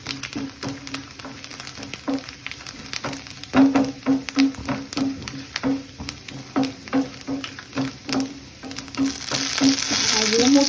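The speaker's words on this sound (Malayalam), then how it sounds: "കുറച്ച് തേങ്ങ മതി ഒരുപാട് തേങ്ങയൊന്നും ഇടണ്ട അത് വറുത്ത് കോരിയെടുക്കണം" Grated coconut fries in a pan for a Kerala kalathappam, giving a steady close sizzle with rhythmic stirring scrapes throughout and a louder hiss building at the end.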